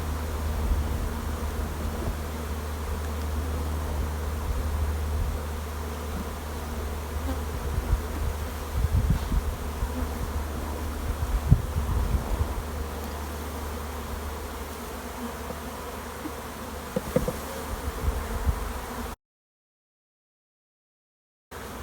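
Honey bees buzz around an opened hive during queen rearing with a box of brood, a steady low drone with scattered louder passes of individual bees near the microphone, then a sudden cut to silence near the end.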